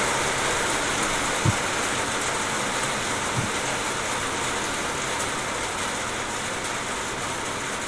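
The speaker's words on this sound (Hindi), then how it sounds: "अभी जो कि है वो हमारे यहाँ पर बारिश हो रहा है" Rain falling outside, a steady dense hiss of drops on surfaces with a couple of brief faint knocks, constant and fairly loud throughout.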